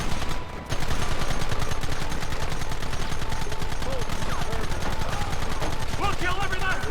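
Rapid gunfire from a Red Dead Redemption shootout on Xbox 360, a steady stream of close, loud shots rattling almost nonstop after a brief pause at the start, with voices mixed in.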